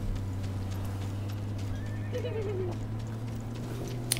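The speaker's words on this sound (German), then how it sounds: "Ich höre das Pferd irgendwo da." A horse in the battle royale game Realm Royale gives a short neigh midway over a steady low engine-like hum, with faint hoof clops and a brief click near the end.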